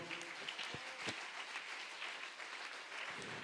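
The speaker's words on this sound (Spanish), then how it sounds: "Dele ese aplauso al Señor." Church congregation applauding in praise of the Lord during a sermon, a steady wash of many hands clapping at moderate level, fairly distant and even throughout with no voices standing out.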